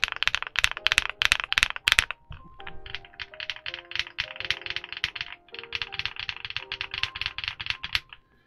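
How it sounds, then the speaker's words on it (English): Stock RK84 mechanical keyboard typing, close and crisp, in rapid bursts of clacky keystrokes with brief pauses, some keys ringing with a faint metallic ping. "That's what a stock keyboard sounds like in 2024."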